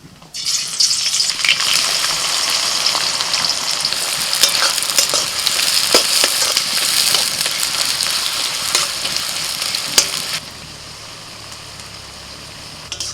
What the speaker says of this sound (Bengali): পেঁয়াজটা ভেজে বেরেস্তাটা বানিয়ে নিচ্ছি